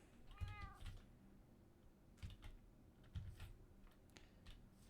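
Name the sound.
cat meowing in Minecraft video game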